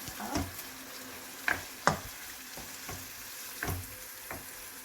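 A soft, steady sizzle of prawns frying in a pan, broken by a few sharp scraping stirs and clinks, close by and fairly quiet.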